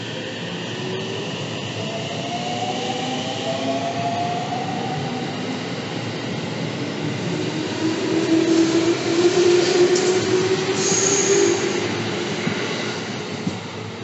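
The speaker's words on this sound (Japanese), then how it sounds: "普通熱海行きの列車が出発していきました。" A Japanese local train bound for Atami pulls away steadily with a low rumbling roar and rising motor whine that swells toward the middle, no voices.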